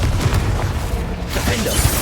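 Bombarda and Confringo spells in Hogwarts Legacy burst into heavy, rumbling explosions that fill the clip loudly and continuously, with booming low-end blasts layered over crackling debris.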